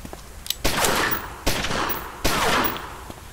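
Three sharp gunshots from the gangster game Omerta: City of Gangsters, evenly spaced about a second apart, each a loud crack with a short decaying tail.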